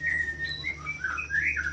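A caged white-rumped shama chirps in quick, thin, whistled notes over a low steady hum, moderately close and on its own with no talk.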